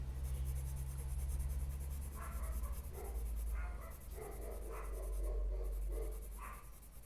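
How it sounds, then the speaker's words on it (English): Graphite pencil pressed heavily across paper while building layers, giving a steady scratchy scraping in several short strokes over a low background hum, close and clear. "you feel how the graphite melts into the paper."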